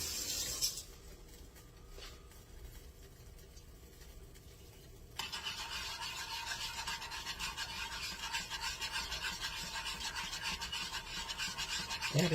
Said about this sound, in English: now let me get my whisk